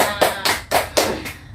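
A primary classroom of young students clapping together in a rhythmic pattern, about five or six loud, close bursts of claps with short gaps between them.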